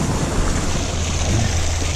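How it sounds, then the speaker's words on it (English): Water rushes steadily out of a tank through a siphon, a continuous broadband gushing roar, loud and close with no pauses. "So now I've got to drain all the water out that we just put in here."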